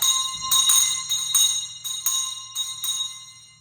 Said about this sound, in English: she would ring the bell